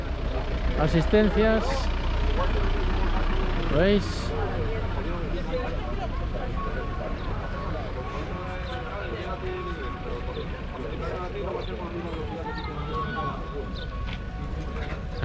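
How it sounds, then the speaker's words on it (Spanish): Rally car engines idle and rumble in the service area at the Subida al Fito hillclimb, a steady low drone near and far, with someone talking over it throughout. "Metidos en faena, con el sonido de los motores."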